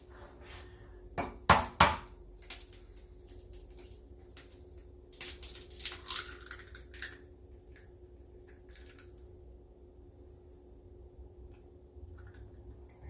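Eggs cracked by hand for lemon meringue pie, a few sharp close taps early on followed by softer wet clicks and shell handling, then a quiet stretch, no talking.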